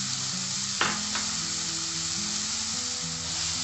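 Chopped blanched tomatoes hit hot oil in a frying pan for a raw banana kofta curry, giving a steady close sizzle with a brief splash of louder spitting early on and no talk.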